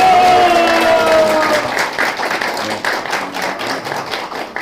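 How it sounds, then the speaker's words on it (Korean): A crowd at a youth party members' tea meeting in Yeonje-gu, Busan, claps loudly to welcome former prime minister Hwang Kyo-ahn, a dense applause with a tone over the start that thins slightly, some voices mixed in. "박수로 맞아 바랍니다"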